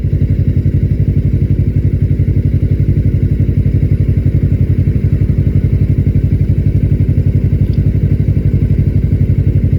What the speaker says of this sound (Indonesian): Ada suara 4 silinder nih.